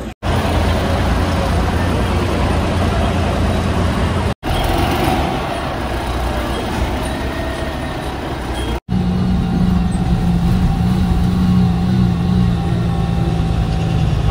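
An MSRTC state transport bus travels on the road from Pune toward Alibaug, its broad engine and road rumble loud and steady throughout, with brief breaks and a low engine tone that rises near the end.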